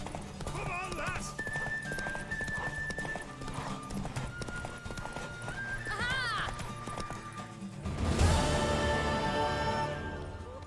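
Horse hooves clip-clop steadily under a busy mix of game music and a horse's whinnies in The Witcher 3, with spoken voices over the top; the sound swells louder near the end.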